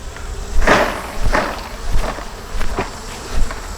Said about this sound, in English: So first thing I'm going to do is to shake the bees into this tub.